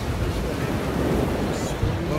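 Ocean waves wash onto a sandy beach near Mumbai, India, a dense continuous roar of surf mixed with gusting wind buffeting the microphone, loud and close throughout.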